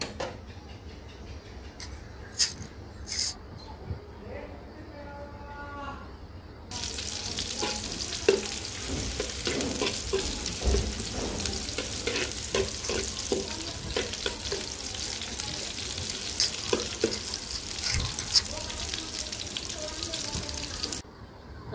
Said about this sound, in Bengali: তো ডালটা বাগার দিয়ে দিচ্ছি।